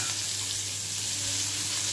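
Onion sizzling in hot oil tempered with black cumin for a light fish curry, a steady, close, bright frying hiss that continues evenly with no talk.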